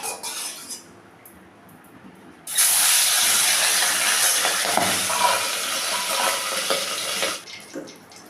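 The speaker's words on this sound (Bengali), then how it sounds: "তো এখন আমি মাছটাকে ভেজে নেব।" Pabda fish dropped into hot salted oil bursts into a loud, steady hiss and sizzle after a quieter start, holding for several seconds before dropping off.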